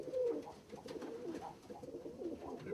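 Pigeons of rare colour breeds coo softly and steadily in a loft, with overlapping low throaty calls forming a continuous murmur, faint and a little distant, with no talking.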